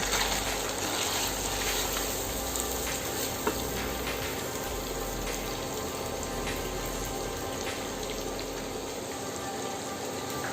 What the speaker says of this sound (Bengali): আমি আদা রসুনটা তেলের মধ্যে ভেজে নেওয়ার পরে এখানে পেঁয়াজ কুচিগুলো দিয়ে দিচ্ছি